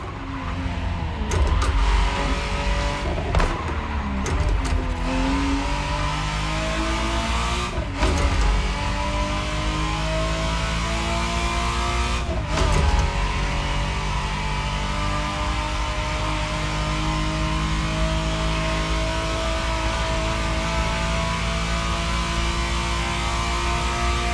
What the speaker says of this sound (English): the exact model Motorfest has put in your hands is the 1991 re-engineered version of the Testarossa